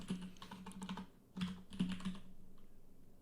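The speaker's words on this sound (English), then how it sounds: "I can type in batters.player name" Keystrokes on a computer keyboard come in quick bursts separated by short pauses, quiet and close, with a low steady hum running underneath.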